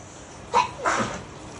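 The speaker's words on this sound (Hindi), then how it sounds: "इधर से छींक आ रही है" A child sneezes indoors, a quick sharp double burst with a short catch of breath between, close and fairly loud against a quiet room.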